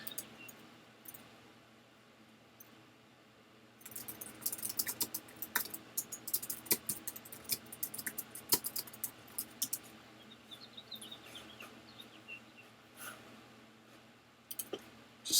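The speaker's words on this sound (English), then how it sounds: "Just type in a couple things in the Discord real quick." Typing on a computer keyboard for a gaming stream, starting after a quiet stretch with brisk, irregular clusters of close, crisp key clicks and occasional louder taps.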